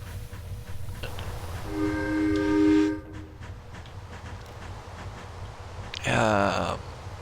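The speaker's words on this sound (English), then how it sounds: "I'm going to stop the train here" A train runs in the Pioneers of the Wild Frontier video game, with a low rolling rumble throughout, a sustained whistle tone in the middle and another bright whistle blast near the end, under someone talking.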